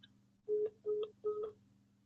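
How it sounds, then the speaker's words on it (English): Telephone keypad dialing tones beep three times in an even rhythm, each a clear steady electronic tone about a third of a second long, over a low background hum. "I'm gonna call Briggs then"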